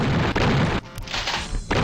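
A double-barrel shotgun fires in the retro game Dark War 2, a few sharp, loud booming blasts in quick succession with short gaps between them.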